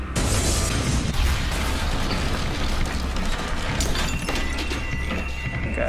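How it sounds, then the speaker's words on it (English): A loud, sustained roar of explosion and crashing debris at the World Trade Center on 9/11, broadband and continuous with sharper bursts near the start and midway. "We hear another explosion."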